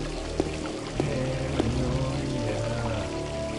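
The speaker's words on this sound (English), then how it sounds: "Water ripples." Water sloshing and rippling in Resident Evil Code Veronica X, a continuous pouring, trickling wash with a few soft splashes and low rumbling underneath.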